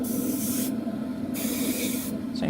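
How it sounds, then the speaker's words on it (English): Bursts of airbrush paint spray hiss on a 1/48 scale F-14D model cockpit, close and steady, starting and stopping in short passes with brief pauses between them. "And misty spray."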